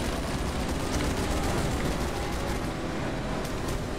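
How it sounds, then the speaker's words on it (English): A Gatling gun firing in the space racing video game Grip, a dense continuous rattle of rapid shots layered over roaring engine and game noise, loud and steady with no talk. "Gatling gun!"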